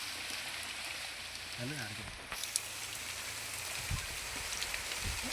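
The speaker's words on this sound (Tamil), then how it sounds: "மழை பெஞ்சு நல்ல மழையாக பெஞ்சுக்கு இருக்கு." Steady rain falls on a hilltop cave among rocks, a dense, even hiss filling the whole stretch, with a brief muffled voice and a few low thumps nearby.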